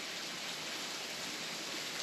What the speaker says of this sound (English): And the rain is setting.